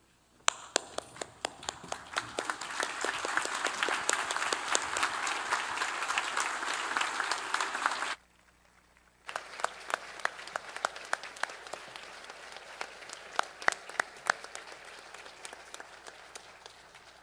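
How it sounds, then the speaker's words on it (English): Sustained audience applause at a university graduation ceremony, many hands clapping steadily and densely, breaking off into near silence for about a second before a fresh round of clapping resumes and continues. "would you all join me in standing up and giving a round of applause to not only yourselves and fellow graduates"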